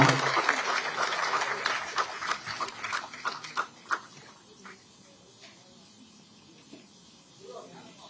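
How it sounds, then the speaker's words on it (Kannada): An audience at the Nandi Film Awards ceremony claps loudly and densely for about four seconds, then the applause thins and fades into a quieter murmur with voices in the background. "ಒಂದು ಜೋರಾದ ಚಪ್ಪಾಳೆ"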